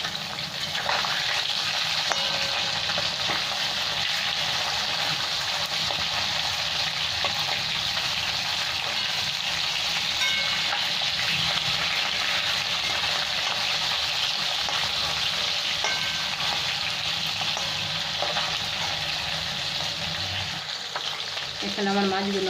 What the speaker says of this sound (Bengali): এখানে আমার মাছগুলো ভাজা হয়ে গেছে